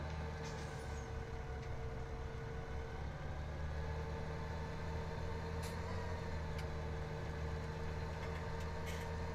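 A tractor engine idles steadily in Farming Simulator 2017, a constant low diesel rumble with a faint whine on top, unchanging and close, with no talk.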